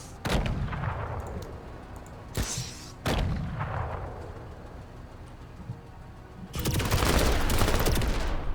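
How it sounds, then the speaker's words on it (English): Heavy gunfire and artillery blasts from the tactical video game Menace come in loud bursts. Each burst has a long rumbling decay, and a dense barrage builds near the end. "Now it's shooting that tower."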